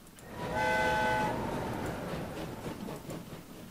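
A train in the railway-building game Train Fever stands at a crowded station platform, with a brief horn or whistle blast sounding over a steady rumble of rolling stock and ambient station noise.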